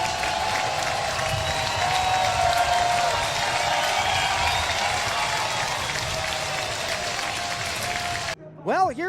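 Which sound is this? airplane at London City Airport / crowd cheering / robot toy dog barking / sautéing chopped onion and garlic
crowd cheering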